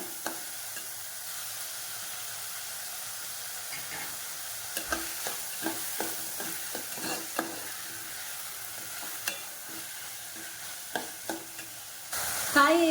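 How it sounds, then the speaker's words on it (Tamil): Chopped tomato and a green chili sauté in a pan for green peas rice, a quiet steady sizzle broken by a run of light spoon scrapes and taps as the mix is stirred. "அடுத்து கட் பண்ணி வச்சுருக்க தக்காளி ஒரு பச்சை மிளகாய் வந்து சேர்த்துக்கிறேன் சேர்த்துட்டு நல்லா வதக்கிக்கோங்க"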